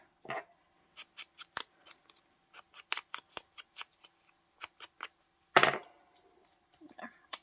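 Scissors trim sharp corners off paper for a collage, making a close series of crisp, irregular snips, roughly a dozen short cuts with a louder paper rustle partway through.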